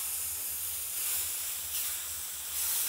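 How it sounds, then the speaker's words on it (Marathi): Chopped tomatoes, salt and spices sautéing in a pan over medium heat, giving a soft continuous hiss and sizzle, close and fairly quiet, with no voices. "आता हे पण आपण थोडंसं परतूया"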